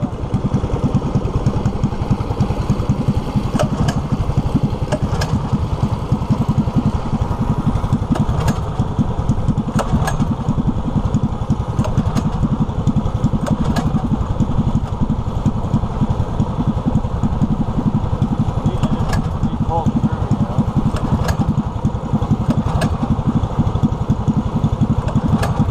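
A pull-start engine runs continuously at a rough, busy idle, loud and close with a steady rattling throb and occasional clicks, and no voices over it.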